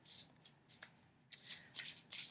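Smooth Druid Craft tarot cards being shuffled by hand, a series of short papery riffling bursts in irregular rhythm, close and fairly quiet.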